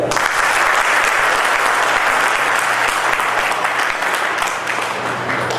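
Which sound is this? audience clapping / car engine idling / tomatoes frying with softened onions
audience clapping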